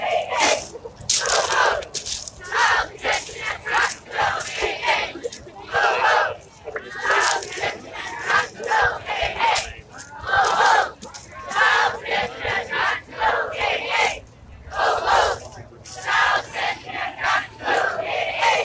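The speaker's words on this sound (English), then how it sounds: "Crowd steadily getting larger." Outdoor crowd gathering at a Beto O'Rourke political rally in Clint, Texas, June 2019: steady, dense murmur of many voices chattering nearby, continuous throughout with rising and falling swells.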